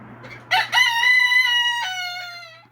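A backyard Silkie rooster lets out a single loud, close crow lasting about two seconds, with a rising start and a long drawn-out tail, over a low steady hum.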